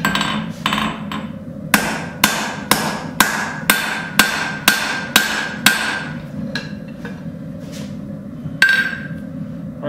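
A hammer forges hot steel tongs on an anvil, ringing out about a dozen sharp, steady metallic blows up close, with a lighter tap or two afterward.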